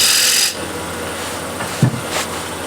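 A square scraper cuts a bead into a spinning walnut or cherry wooden plate on a lathe, giving a loud steady rasping scrape for about half a second, then quieter intermittent scraping contacts.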